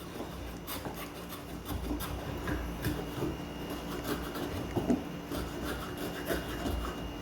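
Spokeshave shaving a wood workpiece by hand, a steady series of close, dry rasping strokes with soft scraping texture throughout.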